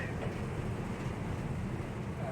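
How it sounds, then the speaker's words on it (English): Steady wind roars and buffets the microphone in a constant low rumble, with no pauses. "It's very windy."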